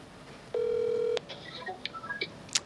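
A phone on speakerphone dials out: a steady held tone, then a quick run of short keypad beeps at moderate level, with no voices.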